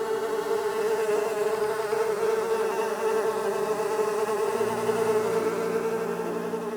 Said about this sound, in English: So God sent a plague of flies. The flies buzzed into the houses and filled Pharaoh's palace.